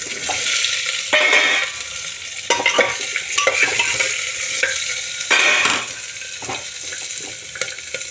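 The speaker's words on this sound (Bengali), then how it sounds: "এবার আনাজগুলো দিয়ে দিলাম" Chopped vegetables hit hot oil tempered with cardamom pods and a clove, giving a loud sizzling hiss with repeated bursts of stirring and scraping against the pan.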